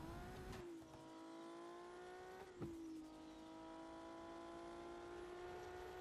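Car engine in the video game Car for Sale, a steady drone with rising revs and a couple of gear-shift dips, loud and continuous with no voices.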